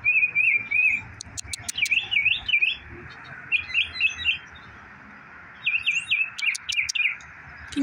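A pet bird chirps and warbles in short, repeated bursts of bright, twittering song at close range, with brief pauses between phrases and a soft background hum.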